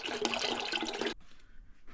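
Water pouring into a soup pot for green banana soup, a steady loud splashing rush lasting about a second before cutting off abruptly to near silence.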